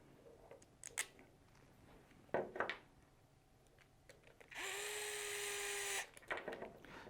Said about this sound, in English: When you're tightening screws with this power tool, you do want to be very careful not to strip out hardware.